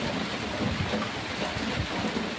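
Heavy rain falls hard and steadily, a dense patter with some low rumbling underneath, close by and continuous, heard from indoors.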